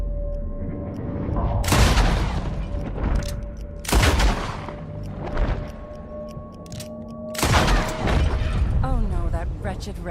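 Several loud gunshots from a player's firearm in Red Dead Redemption 2 crack out at spaced intervals, each a sharp broadband blast with a ringing tail, over steady background game ambience and a sustained tone.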